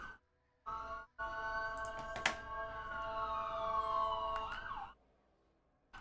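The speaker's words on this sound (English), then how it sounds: "It was an ambulance" An ambulance siren wails in the background, a single rising and falling tone that holds for about four seconds between quiet gaps, with no talking over it.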